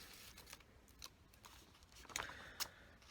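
Trusty scissors snip through paper for a Japanese-style craft, giving a few quiet, crisp cuts that grow slightly sharper near the end, with no talking.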